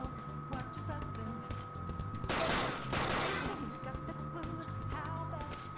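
Gunfire in Persona 5 (Shin Megami Tensei: P5) battle, a short burst of rapid shots in the middle of the game's music and effects, with a voice talking nearby.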